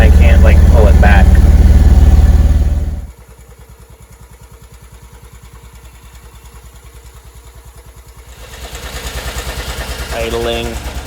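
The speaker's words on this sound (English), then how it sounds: "Idling. We've had a problem with the idle hanging up." A 1957 BMW Isetta 300 engine idles with a steady rapid putter, louder and rougher at first, then settling lower before revving slightly; a voice speaks briefly over it. The idle tends to hang up after carburetor work.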